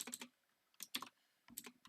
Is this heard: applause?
no